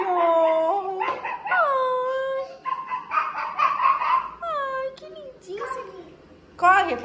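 Dog howling and whimpering in long rising and falling wails with a few sharp yelps, loud and close, with excited voices talking around it.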